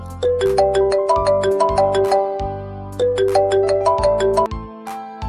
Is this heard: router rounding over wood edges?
no